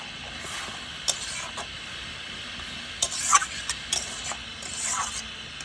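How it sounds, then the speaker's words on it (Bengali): Mustard paste being stirred with water in a wok for a small-fish chorchori, with soft sizzling and scattered scraping clicks of a spatula against the metal. "জলটা দিয়ে ভালো করে এখানে মিশিয়ে দিচ্ছি"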